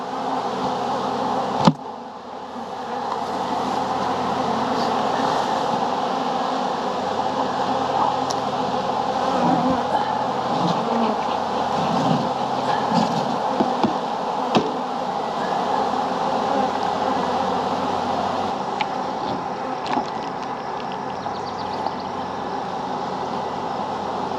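Honey bees drone in a dense continuous hum as frames are shaken and a single-box hive is inspected, with a sharp knock near the start and occasional light handling noises.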